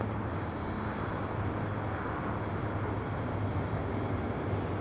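An airliner landing at LAX produces a steady, broad engine roar with a low rumble that holds evenly throughout, no voices over it.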